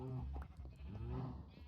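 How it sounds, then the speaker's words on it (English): Sheep bleating in Minecraft, a few short bleats in quick succession, loud and close, with a voice speaking over them. "Got my sheep here all ready to go."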